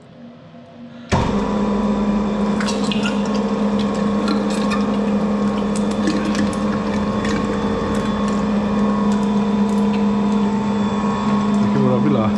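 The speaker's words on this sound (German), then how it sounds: "Durch die 2 mm Scheibe des Wolfes." Meat grinder mincing liver through a 2 mm plate for fine liver sausage, starting abruptly and then running as a steady, loud mechanical hum and churn, with faint clicks and rattles on top.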